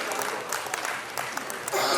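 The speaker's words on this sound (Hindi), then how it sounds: "तालियां बजती रहनी चाहिए।" Applause from a ceremony audience for an esteemed guest, Dr. Rachna Agarwal, at a district judiciary function, heard as a steady dense patter of clapping that swells slightly toward the end.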